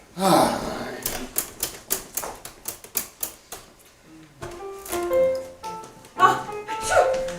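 Rapid mechanical clacks of a typewriter on a stage at an improvised Broadway-style show, a quick irregular burst of keystrokes up close, followed by talking and sung voices.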